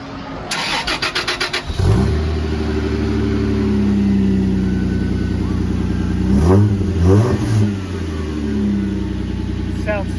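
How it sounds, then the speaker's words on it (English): A truck engine with a custom exhaust cranks and starts, then idles with a deep, throaty rumble before two sharp revs; loud and close, with brief talk at the start. "This one also has a custom exhaust on it, so it sounds really good."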